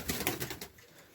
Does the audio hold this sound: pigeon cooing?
yes